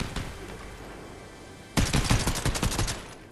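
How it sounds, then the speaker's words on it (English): Video game gunfire: a sudden burst of rapid, loud shots breaks in after a quieter stretch of background game noise, crackling in quick clusters for over a second. "Where else is he shooting from?"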